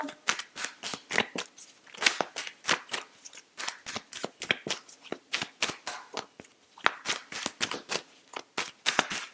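Tarot cards shuffled by hand, a quick run of crisp riffling snaps repeating in steady bursts, close and clear with no talking over them.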